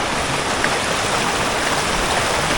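The Madhuvanti river flows through the Gir forest, a loud, steady rushing roar of moving water that stays constant throughout, with no voices.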